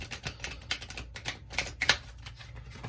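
Tarot cards are shuffled in quick, crisp riffles and taps, a close rapid patter of papery clicks with a few sharper snaps, no talking.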